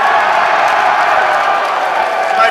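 A large crowd at a political rally cheers and roars in a steady, dense wash of noise, loud and sustained without a break.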